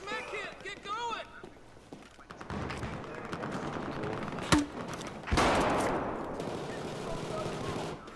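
Gunfire in the shooter Battlefield 4, with scattered shots and a sharp loud crack midway, then a dense burst of fire, mixed into busy game noise while people talk over it.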